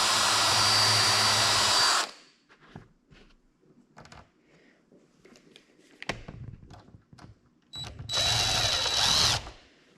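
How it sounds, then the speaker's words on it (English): A power drill bores a hole for a machine screw through a boat hinge, two loud bursts of whirring motor separated by quiet pauses filled with faint clicks and handling noises. "Drill the hole."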